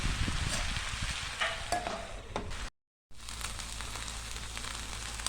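Chopped greens and vegetables for a Marathi ambadi dish sizzle in a pan with scraping stirs, a steady close frying hiss broken by a brief silent gap.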